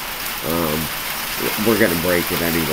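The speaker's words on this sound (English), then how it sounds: "I apologize about the rain" Steady rain falls during an outdoor recording, a loud, even hiss running throughout beneath someone speaking.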